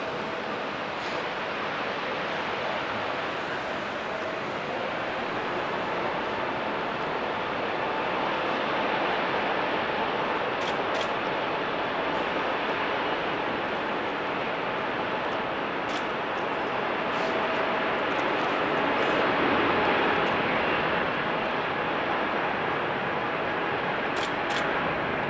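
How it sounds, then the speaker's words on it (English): An Airbus A380 takes off, with a loud, sustained broadband engine roar that stays steady and heavy from start to finish, with no talking. "A380 takeoff time."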